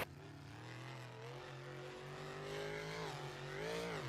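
A monster truck engine drones loud and sustained during a stadium freestyle run, holding a steady roar that rises and bends in pitch toward the end.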